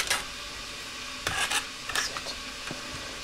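Roast potatoes being turned in hot fat in a roasting tin, soft sizzle underneath a few close, rasping scrapes and metallic knocks as the utensil moves them, with no speech.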